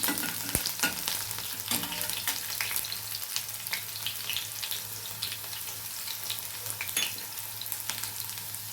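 Green chillies sizzle and fry steadily in a pan, a continuous close crackling hiss with occasional stirring clicks and no talking.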